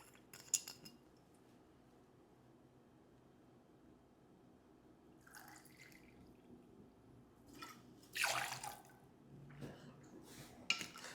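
Vodka poured into a metal cocktail shaker tin while mixing a Moscow Mule: a brief, quiet splash of liquid among soft drips and light metallic clinks in an otherwise hushed room.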